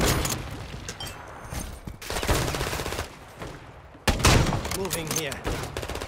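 Rapid bursts of video game gunfire in a Kar98 rifle match, loud, dense and repeated in several clusters, with a player talking over the shooting.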